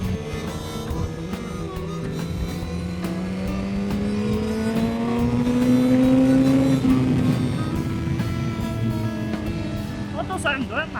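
A Suzuki GSX-R1000R superbike on the move hums at steady revs, then its engine note climbs smoothly to a louder peak before easing back, close and continuous with traffic and wind around it, while a rider talks over it.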